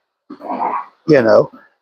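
Excited dogs whimpering and yipping close by: a breathy whine, then a louder, higher tonal yelp with a short trailing yip, alone without talk.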